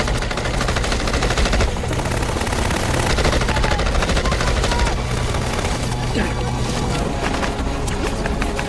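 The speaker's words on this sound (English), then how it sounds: "Lay down some cover fire." Sustained automatic gunfire laying down cover fire in a military TV drama, loud dense bursts running continuously without a break from start to end.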